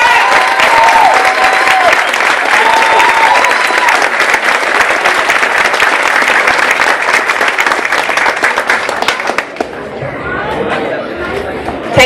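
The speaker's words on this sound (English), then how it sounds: "Please give them another round of applause." Audience applause at a Saba Day ceremony, loud, sustained clapping with crowd chatter running for about ten seconds before thinning out near the end.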